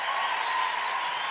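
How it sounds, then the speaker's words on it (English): An audience applauding a keynote speaker at a leadership summit, dense steady clapping from a full room, loud and continuous without any voices. "please give her a hand of applause."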